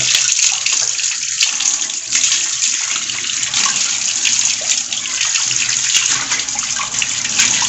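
Tap water runs steadily from a pipe while karimeen (pearl spot fish) is washed, a loud, continuous splashing rush with no talk over it.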